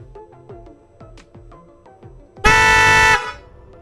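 An aftermarket horn on an Indian Challenger motorcycle blasts once, a loud, bright, sustained honk lasting under a second after a stretch of quieter rhythmic engine idle.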